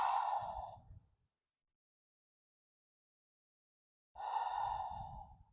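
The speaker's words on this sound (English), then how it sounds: "Big inhale, full exhale." Slow, deep breaths during a calming evening yoga stretch, one long audible exhale fading out, then a stretch of silence before the next full breath rises, close and clear with no talking.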